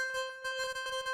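Sonicware Texture Lab granular effects processor with grains pitched up one octave, a quiet shimmering sustained tone with rapid fluttering grain pulses, alone.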